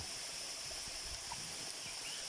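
Pha Rom Yen waterfall in Uthai Thani, a tall cascade roughly three hundred metres high, gives a steady, even rush of falling water that holds at one level throughout, with a faint broad hiss on top.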